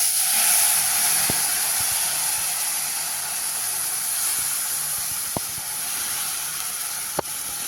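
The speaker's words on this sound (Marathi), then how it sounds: "दूध उकळून घेतलंय बघा अर्धा लिटर फुल क्रीम दूध आहे मस्त साय आहे साई सकट त्यामध्ये घालायचं" Half a litre of boiled full cream milk, thick with its cream, is poured into a hot pan of roasted poha for kheer. It gives a steady, fairly loud hiss of steam with a few sharp clicks and no speech.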